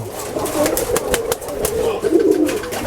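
Jag Dobaj pigeons cooing, a soft continuous murmur of low coos with occasional wing flutters, close by in a loft, with no talk over it.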